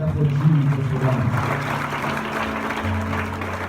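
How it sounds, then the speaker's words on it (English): A church congregation claps their hands at an evening worship service, the clapping blending into a wash over sustained low musical tones, steady throughout without speech. "Clap your hands together for Jesus tonight"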